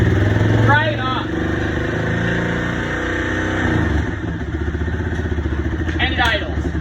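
A revived Honda FourTrax ATV engine running loud and close, a steady chugging idle after a short rev, with a voice talking over it.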